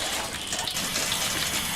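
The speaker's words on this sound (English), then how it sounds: "That's a very loud flush." A loud toilet flush in the video game Viscera Cleanup Detail, a steady broadband rush of gushing water that holds for the whole span without pause.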